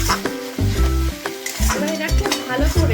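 Blended tomato paste frying with onions in oil for a chicken and potato curry, a loud continuous sizzle with repeated scraping stirs and clinks of the spoon against the pan.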